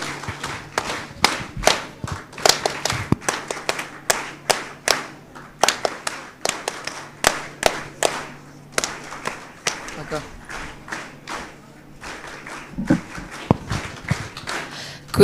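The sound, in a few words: audience applause at school function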